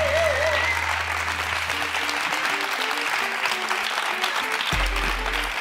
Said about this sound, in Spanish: Un aplauso para todo el equipo que hace posible este programa.